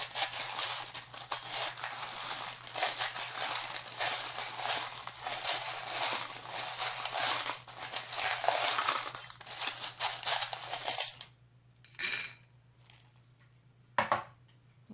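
Small metal charms shuffled by hand, a dense continuous clinking and jingling up close against a low steady hum, then stopping with a few brief jingles after.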